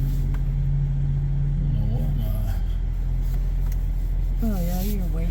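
A pickup truck in two-wheel drive pulling a hitched RV away on a road trip, its low engine hum steady beneath people talking in the cab.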